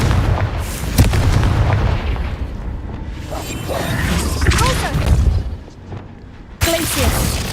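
A Confringo blasting spell goes off in Hogwarts Legacy, sounding as loud, booming explosive bursts with crackling debris over a dense game soundscape, with brief vocal effects around it.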